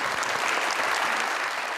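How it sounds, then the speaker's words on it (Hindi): A studio audience on a talk show applauds a contest winner. The clapping is dense and continuous and holds an even, fairly loud level through the short stretch. "इनके लिए बहुत सारी तालियां।"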